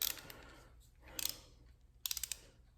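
A torque wrench tightens the bearing caps on a Subaru WRX engine during a rebuild, giving two quiet bursts of quick metallic ratchet clicks close by in a hushed workshop.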